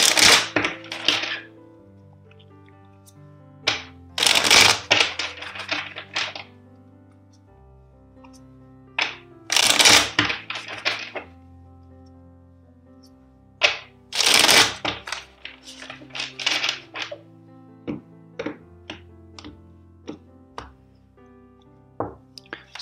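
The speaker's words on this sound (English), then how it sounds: "let's shuffle this deck four times." A deck of tarot cards is shuffled in several bursts of riffling and sliding, each a short crisp flurry followed by scattered soft card taps and clicks, close and alone without talk.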